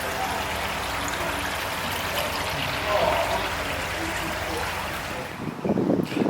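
Water trickles and splashes steadily from showers feeding koi tanks at a koi and pond supplies centre, a constant close wash with some background noise and a brief knock near the end.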